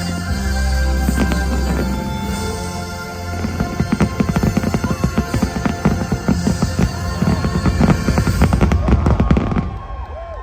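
Disneyland fireworks show for the 70th anniversary, with a rapid run of loud booms and crackling bursts layered over music and a low rumble, building toward a dense finale before fading.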